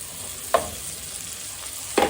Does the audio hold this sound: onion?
yes